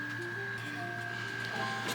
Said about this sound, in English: They're getting printed out right now